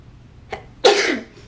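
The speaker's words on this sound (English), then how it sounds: "I have to sneeze." A person sneezes close to the microphone: a short sharp inhale, then one loud explosive burst that trails off, in an otherwise quiet room.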